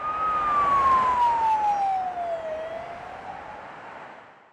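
An ambulance siren wails past on a motorway, one long falling tone over traffic rumble, loud at first and fading as it moves away.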